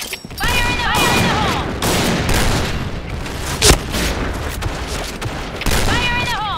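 Gunfire and grenade explosions in the online shooter Point Blank come as dense, loud, continuous bursts with a sharp boom midway, while in-game voice callouts sound over the action.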